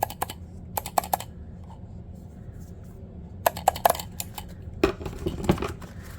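Bursts of clicky keystrokes on an 8BitDo Retro Mechanical Keyboard, sharp close taps in short clusters separated by quiet gaps, a few heavier clacks near the end, no speech.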